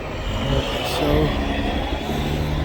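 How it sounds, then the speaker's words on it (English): A four-wheel-drive truck engine revs steadily nearby as it struggles to pull out of deep snow after a long snowstorm in Ohio, a low continuous drone with a slight swell, while a person talks over it. "the truck right next to me is trying to get out too"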